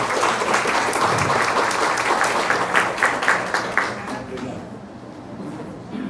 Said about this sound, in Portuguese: Palmas para o professor Marco.